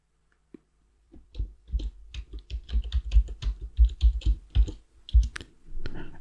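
Password typed on a computer keyboard at a Debian terminal: a quick, close run of irregular key clicks, alone and fairly loud, ending in a firmer keystroke.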